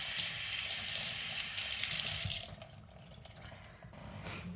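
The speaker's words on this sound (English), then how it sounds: "So let me just rinse my hands off." Hands rinsed under a running kitchen tap after cutting pomelo segments: a loud, steady gush of water for about two seconds, then a few softer splashes and drips once the flow stops.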